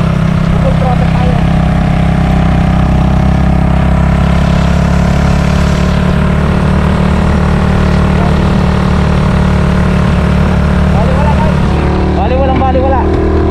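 A 2024 Suzuki Raider FI 150 motorcycle engine drones loud and steady at full throttle while climbing a steep uphill road, with heavy wind rush throughout and a voice audible over it.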